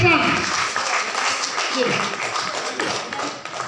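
Applause at a celebration held for distributors of a spray product, a moderate crowd clapping steadily from start to finish, with voices speaking over the clapping.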